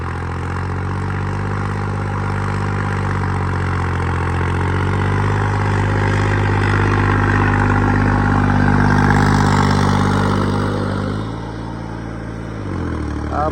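A New Holland 5620 tractor engine runs steadily at idle with a deep, continuous diesel drone, close and loud, its pitch rising slightly midway before settling lower near the end.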